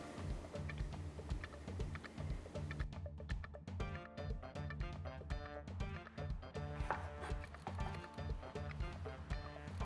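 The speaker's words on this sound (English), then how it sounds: "Continue dicing or chopping as shown." A knife dices potatoes on a cutting board in quick, even taps, a close and quiet string of sharp chopping knocks that keeps up the whole time.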